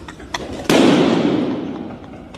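A balloon bursts with a loud sharp pop after a couple of faint clicks, its noisy tail fading away over the next second or so.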